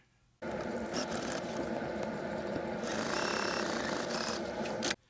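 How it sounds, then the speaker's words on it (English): Home sewing machine stitching corner to corner along a quilt's binding with a Minky back, a steady continuous whirring run of about four and a half seconds, close and loud, starting and stopping abruptly. "then you're going to sew from corner to corner."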